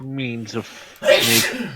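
A single sharp human sneeze bursts out right after someone speaks, loud and close within ongoing talk.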